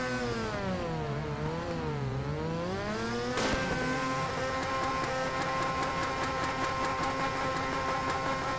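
Drift car engine in Torque Drift, a steady high revving drone whose pitch sweeps down and back up, then jumps sharply higher and holds a buzzing, rattly whine, loud and alone.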